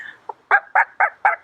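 A person imitates chicken clucks and squawks: one short clipped note, then four loud, evenly spaced bursts in quick succession, close to the microphone with no other talk.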